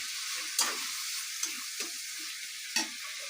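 Tomato and spices fry in oil for a potato curry, a steady sizzle with a few sharp clinks of a spoon stirring against the pan, close and alone.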